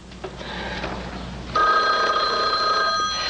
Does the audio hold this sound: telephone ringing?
yes